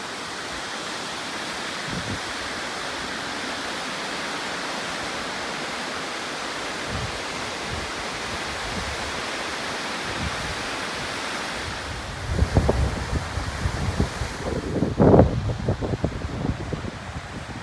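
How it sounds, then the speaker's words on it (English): Barnafoss waterfall in Iceland, fed by glacier water from Langjökull, roars as a steady broad rush of falling water, with wind buffeting the microphone and some louder knocks and rumbles near the end. "the water that comes from this waterfall comes from Langjökull, the second largest glacier in Iceland"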